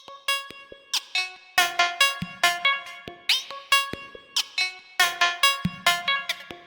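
Bright synth plucks from the Serum synthesizer, with sharp attacks and quick decays, played in a lively rhythmic pattern of short notes, loud and alone.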